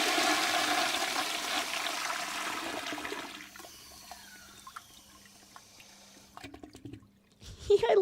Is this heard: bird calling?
no